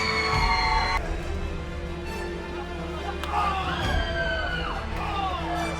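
A pro wrestling crowd roars and cheers through a no-disqualification match between two former friends, a loud, sustained wash of voices with whoops and yells swelling near the middle.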